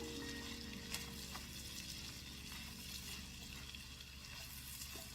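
Vegetables sauté in butter for corn muffin stuffing, giving a steady, soft, hissing sizzle with faint crackles and the occasional stir, fairly quiet and continuous throughout with no talking.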